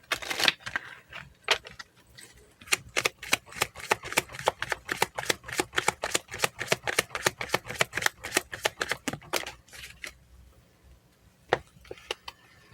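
Tarot cards are shuffled in a quick, steady run of crisp riffling flicks over about ten seconds, close and fairly quiet, then a couple of isolated card snaps after a pause.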